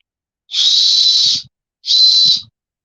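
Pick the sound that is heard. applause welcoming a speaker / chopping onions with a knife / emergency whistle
emergency whistle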